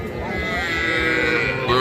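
A heifer calf moos in one drawn-out, wavering call lasting nearly two seconds, close and fairly loud.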